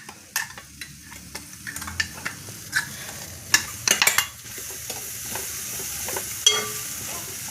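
Dried fish thoran being stir-fried in a pan, with a soft background sizzle under repeated scraping and clinking stirs at an irregular pace, close and moderately loud.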